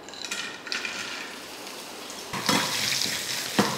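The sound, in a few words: dried turkey berries (sundakkai vathal) frying in hot oil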